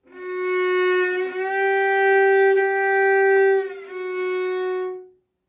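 A single sustained violin note glides in two smooth shifts, from second finger to first finger into third position, bowed close and clear, then fades out; no voices.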